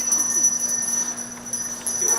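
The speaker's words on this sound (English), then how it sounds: "some familiar faces were ringing the bells for Salvation Army" Salvation Army charity bells ring outside a Negaunee Super One store, bright metallic tones chiming steadily against a murmur of background chatter and store ambience.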